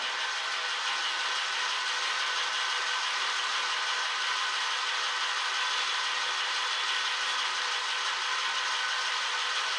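Lathe half nut engaged and longitudinal feed mechanism running, a steady broadband mechanical whir and rub with a faint rhythmic texture, constant and close throughout, with no talk.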